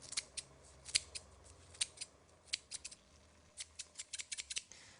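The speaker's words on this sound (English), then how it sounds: "Lime leaves, just snip them in." Kitchen scissors snip lime leaves into a pot of broth: a quick series of crisp, close cuts, irregular at first and then bunching into rapid clusters near the end, in a quiet room.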